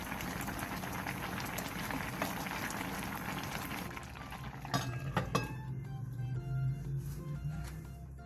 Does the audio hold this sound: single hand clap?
no